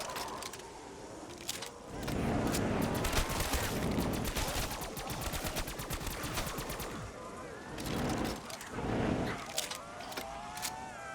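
Rapid automatic gunfire aimed at zombies in Call of Duty Kino Der Toten, long sustained bursts of fast shots with brief pauses, fairly faint and steady throughout.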